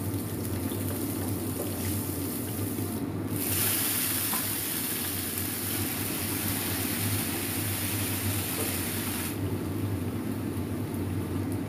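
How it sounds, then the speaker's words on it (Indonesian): Shallots and garlic fry in hot oil for stir-fried water spinach, a loud, steady sizzle that runs close and unbroken throughout with no voices. "Tumis kangkung di sini cuman bawang merah, bawang putih. Ini tak goreng dulu."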